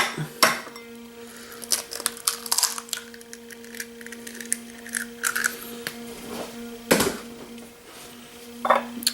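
Eggs cracked into a bowl for licorice eggs, with a few sharp clicks and taps of shell against the rim, faint wet plops, and scattered clinks of utensils, close and irregular with no talking.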